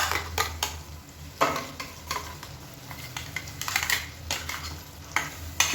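Ground masala paste sautéed in oil in a pan with softened tomatoes over a medium flame for a seeraga samba vegetable biryani: a steady low sizzle broken by repeated scraping, clattering stirring strokes, close by, with no talk.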